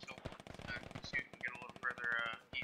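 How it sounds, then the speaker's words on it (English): Rapid automatic weapon fire from a Squad battle, Russian forces hammering a habitat position, rattles steadily and loudly throughout, with a player's voice talking over the nearby gunfire. "That Hab is getting just railed with gunfire."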